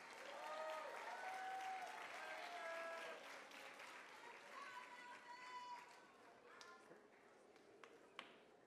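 Audience at a fifth grade moving-up ceremony claps for a class, steady crowd applause with cheers and chatter mixed in, fading to a few scattered claps at the close.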